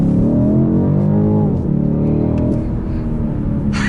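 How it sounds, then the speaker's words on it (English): A 2019 BMW M850i coupe's exhaust roars steadily and loud under hard acceleration, with rising engine harmonics, a brief dip as it shifts, then a sharp crackle at the end. "And the exhaust has the rattles, the bangs, you name it."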